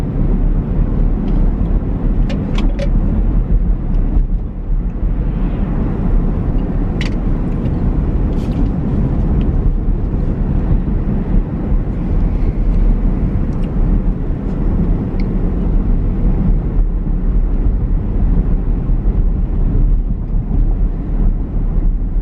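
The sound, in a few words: car driving, road noise inside the car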